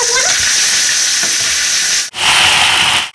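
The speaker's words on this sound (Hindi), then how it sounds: "जैसे तेल गर्म हो जाएगा तो उसके बाद हम सबसे पहले इसके अंदर डाल देंगे अदरक लहसुन का पेस्ट" Ginger garlic paste hits hot refined oil in a kadai and sizzles loudly and steadily at close range, with a brief break as the frying is stirred before the hiss resumes.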